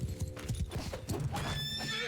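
A horse whinnies and neighs amid clattering hooves in the battle game Mount & Blade II: Bannerlord, the sounds close and busy, layered with other combat noise.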